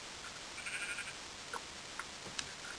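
Minecraft sheep bleating in a survival game, a couple of short, faint bleats over a quiet background with a few soft clicks.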